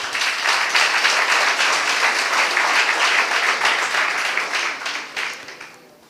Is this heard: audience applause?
yes